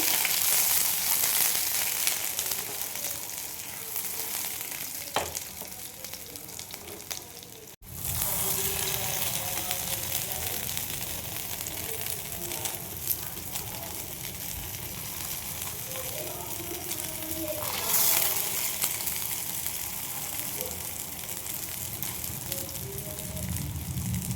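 Potato cheese balls frying in a little oil in a pan, giving a steady, dense sizzle that runs throughout with occasional crackles and a brief clatter near the middle.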